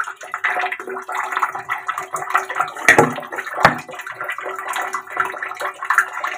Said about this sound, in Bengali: জল পড়ে আর না, দেখো টিপির টিপির এক চাল ধুতে বছর ঘুরে যায়